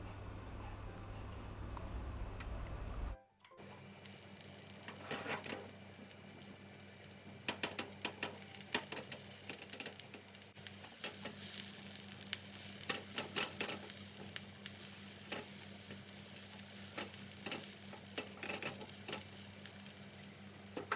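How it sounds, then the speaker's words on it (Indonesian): Garlic, shallots and chilies sautéing in a wok with a little cooking oil, a steady close sizzle with scattered stirring clicks and scrapes running throughout after a brief quiet start. "Siapkan wajan, beri sedikit saja minyak goreng, tumis bawang putih, bawang merah, serta cabai."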